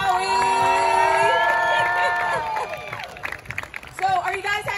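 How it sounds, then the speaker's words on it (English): A stadium crowd at the LA Coliseum for an AGT Summer Games event cheers and whoops for Howie Mandel over loud music, with the noise thinning into scattered shouts and claps toward the end. "another round of applause for Howie Mandel"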